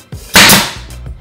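A nail gun fires into trim along kitchen cabinet edges, one sharp loud crack with a short hiss of air close by, framed by faint thumps.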